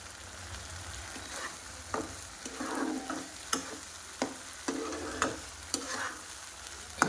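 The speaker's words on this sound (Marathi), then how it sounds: "अगदी दोन ते तीन मिनटंच मी याला शिजवणार आहे" Chillies in yogurt (dahi mirchi) cook in a pan with a continuous low sizzle, marked by intermittent clicks and scrapes of a spoon stirring at a slow, irregular pace.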